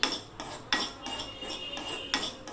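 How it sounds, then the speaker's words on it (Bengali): A spatula scrapes and clatters around a hot kadai as hilsa fish is stirred with the gas turned off. There are about five sharp metallic scrapes at an uneven rhythm, close and fairly loud, with no talk. "এবার আমি গ্যাসটা অফ করে দিলাম এবং গরম কড়াইতে আমি এটা নেড়ে নিচ্ছি"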